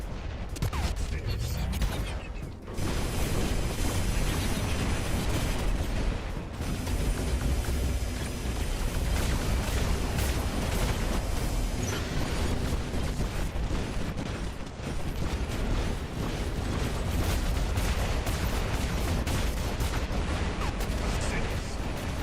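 Robot weapons firing in War Robots, a steady roar of heavy shots and mechanical clanking that carries on almost without a break, loud and dense, with voices talking over it.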